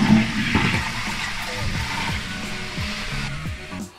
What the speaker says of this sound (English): then I got a flush